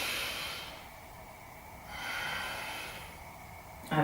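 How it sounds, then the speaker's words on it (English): A slow, deep yoga breath drawn in through the nose and released, soft and close, with a gentle airy rush on the inhale and a quieter exhale, no talking. "Deep breath in and out."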